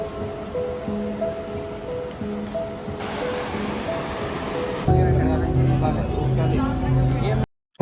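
Surf washing onto the beach beside Murudeshwar temple, a steady broadband wash of waves close by, overlaid with bursts of festive music and background chatter from the crowd.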